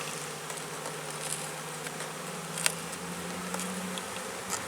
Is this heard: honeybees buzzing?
yes